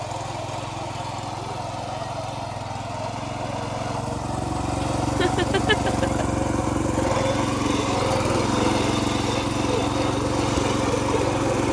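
A tilling machine engine runs steadily nearby in a village, a rough droning chug that grows louder partway through and keeps going without pause.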